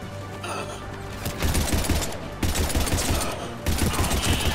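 Rapid gunfire rattles through a Mass Effect 3 battle on Mars, with loud repeated bursts of shots separated by brief pauses.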